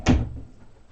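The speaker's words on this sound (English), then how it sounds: "Close that door." A door indoors swings shut with a single short, solid thump close by, then the room falls quiet.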